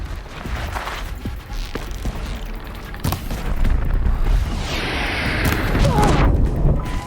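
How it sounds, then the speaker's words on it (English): A large explosion in the Horizon Zero Dawn video game, a broad sustained roar of rumbling blast noise with debris and crackle that swells louder midway and stays dense to the end, with no talking. "that explosion blew us back"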